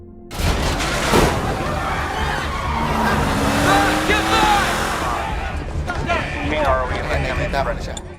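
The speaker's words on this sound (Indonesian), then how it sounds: "ada sebuah mobil yang menerobos masuk ke depan kantor kedutaan" A car bursting through to the front of an embassy in a film scene, a loud crashing impact followed by rumbling and skidding noise, with someone narrating over it.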